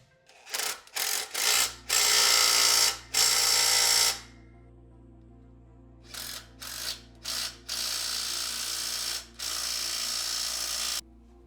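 Ratchet wrench tightening shock absorber mount bolts on an 80 Series Toyota Land Cruiser during an Old Man Emu 2-inch lift install, with bursts of rapid mechanical clicking and a couple of long, buzzing power-tool runs, loud and close.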